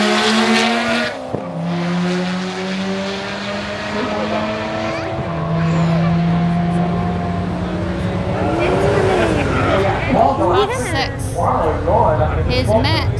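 Single-turbo Mazda RX7 drag race car at a drag strip: a loud engine drone holding steady pitch, then rising sharply and revving hard as the car launches, with people talking nearby.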